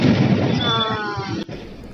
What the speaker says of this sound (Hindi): पटाखे देखते हुए